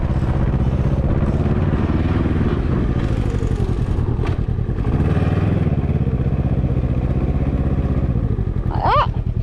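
Motorcycles ride back and forth across a grass field at the Copdock Bike Show. Loud, continuous engine roar rises and falls as the bikes pass close by, with no voices.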